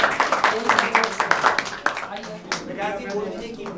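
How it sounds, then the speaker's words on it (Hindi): An audience at a quiz prize event claps in welcome, giving a steady run of quick, close claps for about two seconds before it thins out under murmuring voices. "नेक्स्ट तालियों से स्वागत किया जाए"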